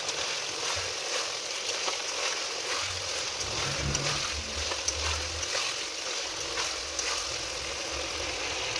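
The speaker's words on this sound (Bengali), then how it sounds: "এখন এটাকে ভালো করে নেড়ে নিতে হবে।" Jackfruit curry being stirred in a pan, a continuous close sizzle with soft scraping of a spoon through the thick mixture and low rumbling underneath, steady throughout with no talking.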